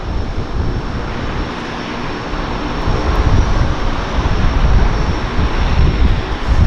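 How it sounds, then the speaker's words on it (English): De Havilland Twin Otter floatplane engines running at Vancouver's downtown harbour floatplane dock, a loud, steady propeller-engine roar filling the whole stretch and swelling slightly toward the end, with no voices. "So we've got one Twin Otter going and one Twin Otter arriving on dock."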